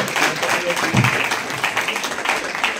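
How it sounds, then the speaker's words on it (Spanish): Audience applause at a Spanish-language science talk on the stellar origin of the chemical elements, a steady wash of clapping filling the whole stretch at moderate loudness, with some voices mixed in. "le vamos a dar un aplauso muy grande a Julio."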